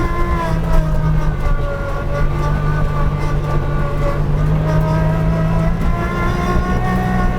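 A Del Morino flail mower runs fast in medium range, giving a loud, steady droning whine with sustained tonal hum and a constant rushing roar, close up and without speech.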